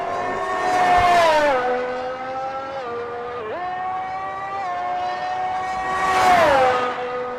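Formula 1 race car engine in a video game at the Miami Grand Prix, a loud high-pitched whine climbing through the gears along the straight, with a brief shift dip midway.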